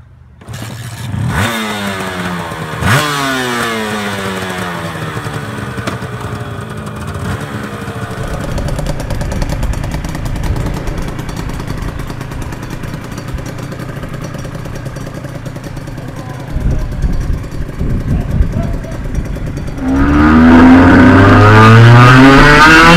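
A race-bred two-stroke motorcycle engine revs hard, rising and falling repeatedly with crackling pitch sweeps up close, then growling louder near the end.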